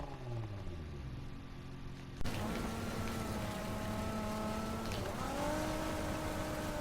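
Car engine in Need For Speed Heat drifting off-road, a loud sustained engine whine with shifting revs and rising pitch after a jolt, steady and close throughout.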